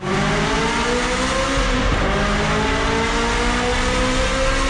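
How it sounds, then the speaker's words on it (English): A Ferrari 355 V8 revs loud and close, a continuous harsh engine roar whose pitch swells and dips across the burst, a car known for misfiring. "the 355 is all about that V8 soundtrack"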